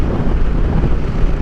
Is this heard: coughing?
no